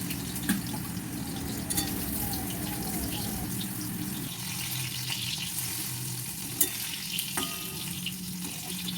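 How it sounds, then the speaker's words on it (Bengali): Steady crackling sizzle of eggplant pieces frying in hot oil, continuous and fairly close, with occasional soft clicks and no talking. "একটা বেগুনে যে কটা পিস হয়েছে সে সব কটা দিয়ে দিলাম ভাজার জন্য"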